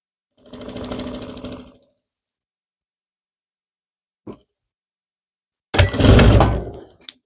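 An industrial sewing machine stitches a blouse placket in two short, loud runs separated by silence, with a single brief knock between them.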